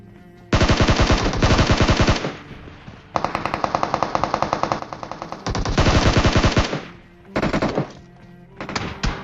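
Sustained automatic gunfire and cover fire in a video game battle among shipping containers, loud rapid bursts in several long runs with brief gaps, heard alone without talk.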